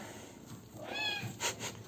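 A cat in an animal shelter gives a short, fairly quiet meow, followed by a brief second vocal sound, with soft room noise around it.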